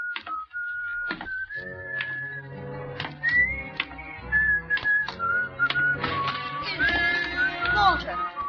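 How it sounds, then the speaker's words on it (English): A man whistles a wavering, sliding tune in an old radio horror drama. The whistling goes on steadily with short pauses, broken by sharp knocks and clicks, and a voice speaks at the start. "You still remember my whistle, eh?"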